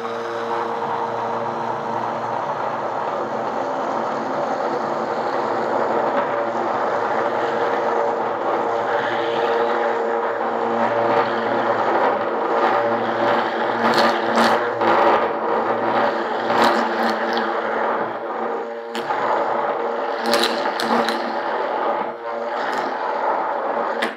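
An immersion blender whirs steadily as it emulsifies homemade keto mayonnaise made without seed oils, a close, continuous motor drone with small shifts in tone as the blade is lifted through the mixture.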